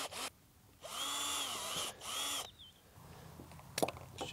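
A power drill fitted with a 5.5mm bit bores into pipe, two sustained whining bursts of about a second each at close range, followed by quieter handling and tapping.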